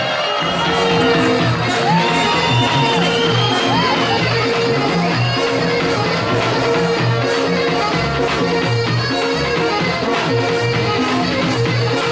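A loud crowd cheers and claps continuously, with whoops and shouts rising over dense, busy background noise throughout.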